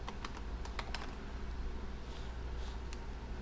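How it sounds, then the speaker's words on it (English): Light, irregular clicks of fingers typing on a computer keyboard that adds extra letters, fairly close, over a steady low background hum with no talking. "My keyboard types in extra letters."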